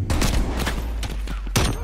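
Dense video-game gunfire from Call of Duty Cold War: rapid overlapping bursts of shots fill the whole moment, loud and close, with no talking over it.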